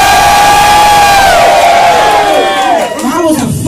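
A live pop-parody gig crowd cheers and whoops loudly and continuously, a dense roar of many voices filling the space with shouts rising near the end.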